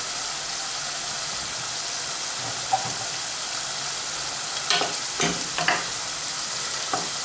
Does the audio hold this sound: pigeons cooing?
no